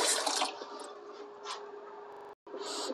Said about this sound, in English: Rinse it off. I'm going to let it drip here for a second.